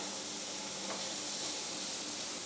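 Toasted sauce ingredients sizzle in a hot pan, a dense, even hiss that holds steady and close for the whole moment with no voices.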